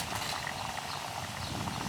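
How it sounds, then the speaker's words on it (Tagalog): Rice simmers in a pot at a campsite, a faint, steady bubbling and gentle rattling that continues evenly without talk. "Kumukulo na ang sinaing ni Mami"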